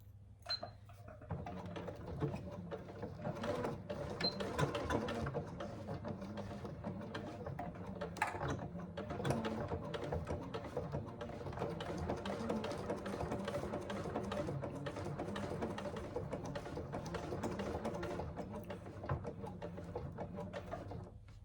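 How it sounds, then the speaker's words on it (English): A sewing machine stitches a quarter-inch seam on a Scarlett Hobo bag, a steady mechanical whir with rapid needle clatter and a few sharper clicks running continuously. "now we need to just sew that in place at 1/4 inch seam allowance"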